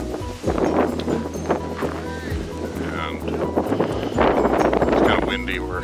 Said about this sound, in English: It's kind of windy, but here we are actually down in the valley of Megiddo